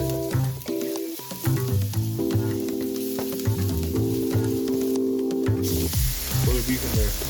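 Garlic frying in a pan gives a continuous sizzle and hiss, with music playing prominently over it and a brief louder burst of spattering near the end.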